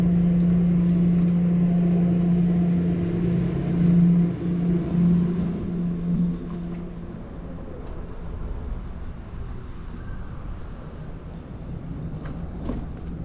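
An electric motorbike fitted with a Sabaton controller whirs along on a test ride, a steady motor whine with a strong low hum that eases off midway, wind and road noise continuing to the end.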